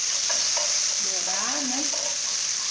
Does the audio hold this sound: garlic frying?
yes